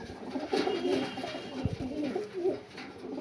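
A single black-eyed female pigeon of a Panjabi Malwai breed coos nearby in a series of low, throaty murmurs that roll steadily without pause.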